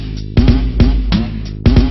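A moped's exhaust bangs out four loud, sharp pops at irregular intervals, close by, with a steady engine putter underneath and no talking.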